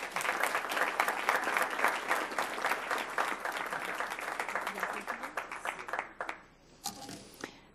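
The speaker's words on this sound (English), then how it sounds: "Let's give them a round of applause." Audience clapping at a school board meeting, a steady round of applause that thins into scattered claps near the end, with a brief voice at the close.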